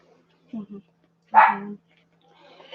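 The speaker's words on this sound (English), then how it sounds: "See, Buddy's outside barking. I hear Buddy." A dog barks a few times at a distance, short muffled yaps with quiet gaps between them, faint sounds trailing at the end.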